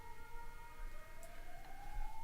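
A siren wails steadily outside, its tone slowly rising and shifting as it passes at a moderate distance.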